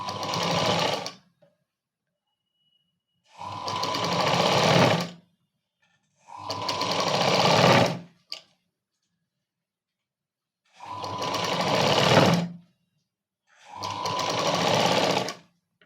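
Sewing machine stitching the sleeves of a Punjabi dress, running in five separate bursts of a few seconds each with short silent pauses between, close and steady.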